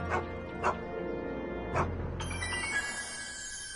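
Einstein the dog barking in the Back to the Future video game, a few short yips and barks spaced apart, then a bright ringing tone, with faint game audio underneath.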